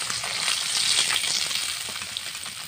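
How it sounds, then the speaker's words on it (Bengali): Bata fish frying lightly in hot oil in a pan, a steady dense sizzle that holds close and fairly loud throughout with no voices. "বাকি মাছগুলো ভেজে নিচ্ছি"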